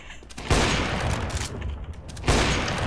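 Gunfire in CS:GO, a loud burst of shots that swells, then dense crackling fire, then another sharp burst near the end, fairly close and harsh.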